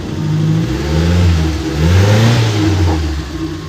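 Engine of a 2001 Mitsubishi T-120 SS, a former public minivan, revs in a few swelling pulses close to the microphone, its low drone rising and falling between blips.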